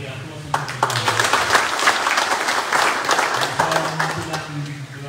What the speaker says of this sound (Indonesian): Beri aplaus untuk kedua.